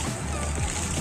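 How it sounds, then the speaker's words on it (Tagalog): Water splashes steadily in a public fountain at a city park in San Jose City, Nueva Ecija, during a Christmas light display, a constant close wash of falling water. "Mayroon pang fountain dito."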